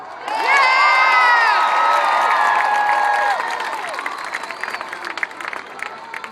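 A large rally crowd cheers and whoops loudly for Joe Biden, with applause and high shouting voices, including children's, that hold strong for about three seconds before thinning into scattered claps and calls.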